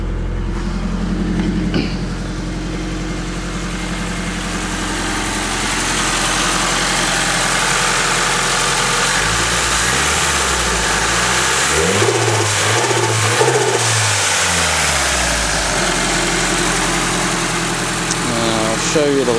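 A 1995 Nissan 240SX engine, set up as a borderline race car, idles with a steady low rumble, then revs in a few rising and falling pulls, close and loud, with a voice briefly audible.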